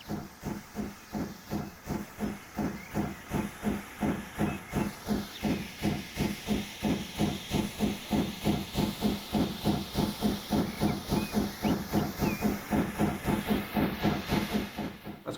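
A steam train in Transport Fever 2 chuffs in a steady, fast rhythmic beat over a continuous hiss of steam, loud and unbroken throughout with no talking.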